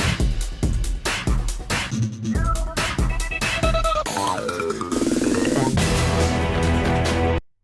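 The Yu-Gi-Oh! theme song recreated from an image's waveform, playing as dense, loud music with steady beats and melodic lines throughout, ending abruptly.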